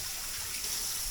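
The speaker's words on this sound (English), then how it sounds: "we're going to fill it back with water" Tap water runs steadily into a container holding brining pastrami, giving a soft, continuous hiss and trickle that is faint and close.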